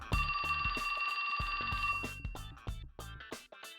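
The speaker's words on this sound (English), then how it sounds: "That's my phone." A phone rings with a sustained electronic ringtone for about two seconds, then gives way to a series of sharp clicks and taps.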